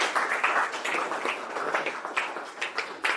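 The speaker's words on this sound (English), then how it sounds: "Can we have a big round of applause for him?" An audience at a Sachin 51-not-out celebration event applauds a panelist, a dense patter of many hands clapping steadily for a few seconds, close and lively with no speech over it.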